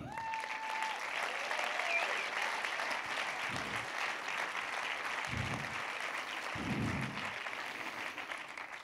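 Steady audience applause at the closing evening of a film festival, even and sustained with a few faint tones and low thumps mixed in, no voices over it.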